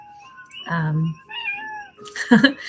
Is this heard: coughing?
no